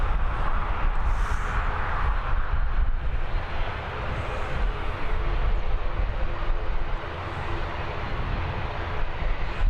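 A roar of jet engines comes from an Aer Lingus airliner inbound from Marseille at Dublin Airport. The rumble is broad and steady, sounds fairly distant, and carries some wind noise, with no talking over it.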